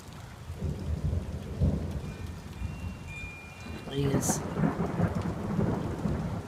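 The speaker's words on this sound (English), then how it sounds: "Because the rain is officially coming down." A thunderstorm with rain coming down steadily, deep rumbles of thunder rolling through and building louder toward the end over continuous patter.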